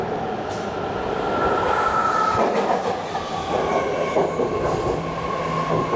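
A BART subway train in San Francisco rumbles loudly along the track with a steady roar, faint rhythmic wheel clatter and occasional high metallic squeals.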